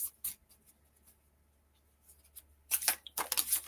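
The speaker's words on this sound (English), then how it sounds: "Thousands of people watching someone shuffle the deck" A tarot card deck being shuffled during a live reading, with a brief riffle early on, quiet handling, then a dense burst of crisp card shuffling near the end, close and clear.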